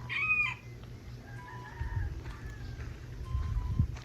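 A rooster crows at the start, a clear cock-a-doodle-doo, followed by fainter crowing and clucking from other fowl at a distance over low background rumble.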